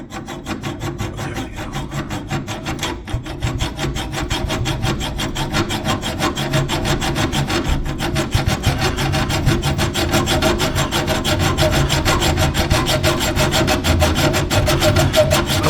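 A hand saw cuts through a brake line on a 2006 Chevy Silverado, producing a fast, continuous rhythmic rasp of short back-and-forth strokes, close and loud, steady throughout with no talking.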